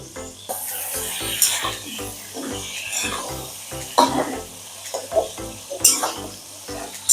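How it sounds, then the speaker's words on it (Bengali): Chicken pieces sizzling in hot oil in a pan while being stirred for chicken kosha, steady frying hiss with repeated scraping and clattering strokes of the spoon against the pan, close and continuous. "এটাকে ভালো করে নেড়ে নেবো।"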